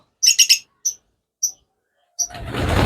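Shrill chirps from lovebirds and sun conures on a bird farm, a quick cluster of three followed by scattered single calls, then rising rustling noise.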